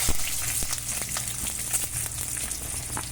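Dried red chillies fry in hot tempering oil with mustard seeds. A close, steady sizzle carries scattered pops and sharp crackles, and nobody speaks.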